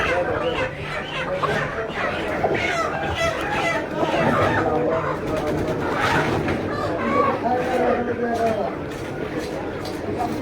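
Chickens and a rooster at a busy poultry market, with clucking and crowing calls mixed into a dense din of crowd chatter and talk throughout.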